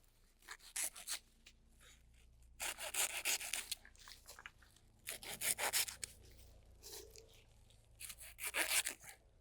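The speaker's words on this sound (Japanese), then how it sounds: "ちょっとこのままいても他の竹に良くないんで切っちゃいますね" A damaged bamboo stalk being cut with a hand saw in a bamboo grove, with bursts of rough rasping strokes in several runs separated by pauses, close and fairly quiet, without speech.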